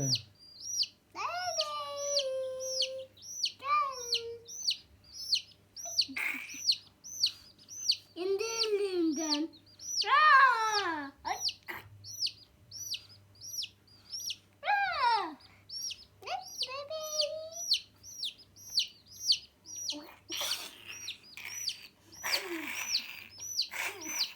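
Baby chicks chirp in quick, high, repeated peeps throughout, close by, while family members talk and play with them.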